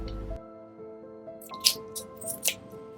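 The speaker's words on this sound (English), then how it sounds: "I'm patting the wings dry to remove that extra moisture." Raw chicken wings being patted dry before air frying, heard as a few soft, damp, squishy pats. They are close but quiet over a faint steady tone, with no talking.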